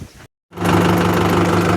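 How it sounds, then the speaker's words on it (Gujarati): A farm tractor's diesel engine starts after refuelling: a brief silence, then the engine catches and settles into a loud, steady, throbbing idle close by. "ડીઝલ નાખીને પછી પાછું ચાલુ કરી દઈએ ટ્રેક્ટર"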